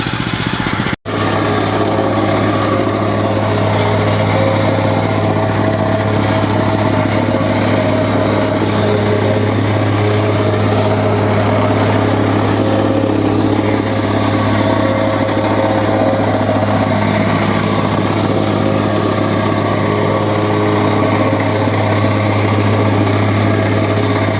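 Mast vibratory plate compactor with its small engine running steadily, a loud, close, constant drone with a strong low hum and rattling vibration throughout.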